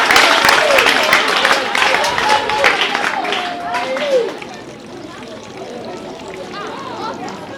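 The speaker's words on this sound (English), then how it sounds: "Let's clap for him." High school students applauding a visitor, a busy patter of many hands clapping under lively voices for several seconds, then easing off into quieter chatter.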